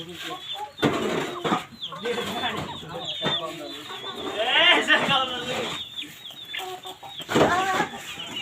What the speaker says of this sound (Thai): ไก่ลาย